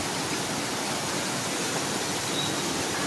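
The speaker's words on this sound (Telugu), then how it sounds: "వర్షం పడుతూ ఉంది బేగంపేటలో" Steady, dense rain pours in Begumpet, a continuous broadband hiss with no breaks, close and fairly loud throughout, no voices.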